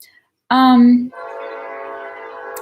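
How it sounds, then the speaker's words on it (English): A nearby train horn sounds in one loud blast, then drops to a sustained lower tone as the train passes close by. "oh my God, the train is going by."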